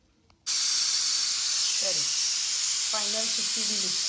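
A pressure cooker whistle bursts into a loud, steady jet of hissing steam after a brief quiet moment and keeps going without a break, while someone speaks briefly over it.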